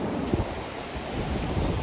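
Ocean waves wash up onto a beach in a steady, rushing surf, with wind buffeting the microphone throughout.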